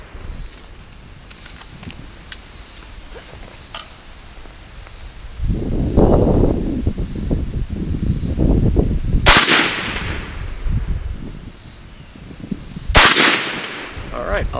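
Two sharp, loud rifle cracks from a .20 GPC wildcat caliber rifle ring out several seconds apart outdoors, set against rustling, handling noise and some muffled talk in between.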